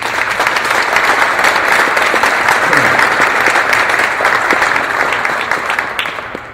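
A large audience claps for Phil Needleman at a science center announcement, a loud, dense, sustained round of applause from a room full of people that tapers off at the end.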